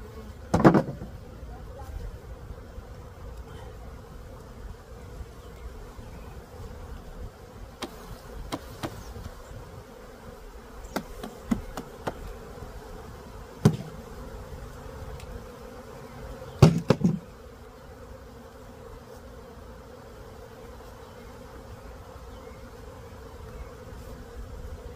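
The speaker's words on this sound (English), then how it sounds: "shake a good amount of bees into this box without the queen" Continuous low buzzing of many honey bees hovering close as they are shaken into a box while splitting a hive, with occasional louder passes and a few sharp knocks and clicks.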